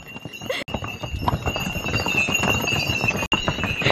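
Donkey hooves clop steadily on a Santorini path, a close, irregular patter of hoof strikes over a continuous outdoor background with a faint high whine.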